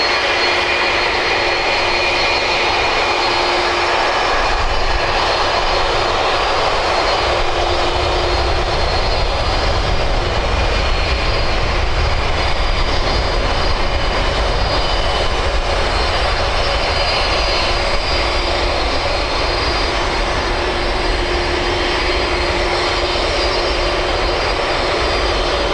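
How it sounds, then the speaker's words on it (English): Airbus A330 jet airliner engines roar steadily at Birmingham Airport, a loud, continuous broadband drone with a faint high whine, holding for the whole stretch without talk. "I hope you can hear me over this A330"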